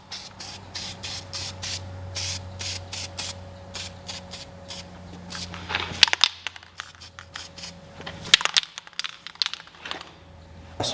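Repeated short bursts of aerosol spray hissing in quick succession onto the electrical components of a Western Ultramount Wide-Out snowplow, fairly close, with some rustling and handling noise in between.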